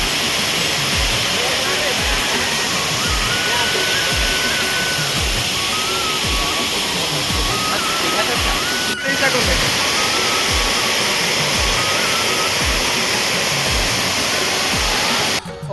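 Dhaskund waterfall in Mahasamund, Chhattisgarh roars as a constant, loud broadband rush of falling water heard up close, with a faint voice murmuring underneath and no pause throughout.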